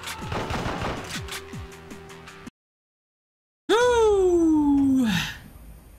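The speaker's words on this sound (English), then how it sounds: "Gatling gun." A Gatling gun in the PS2 on-rails shooter Endgame fires in loud, rapid bursts, followed by a brief silence and then a sweeping electronic wail with more gunfire and sound effects, with no speech.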